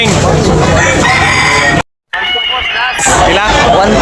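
Roosters crowing loudly and close at a rooster sale market in Tabunok, Talisay, Cebu, over dense crowd chatter and someone talking, with a brief dropout midway.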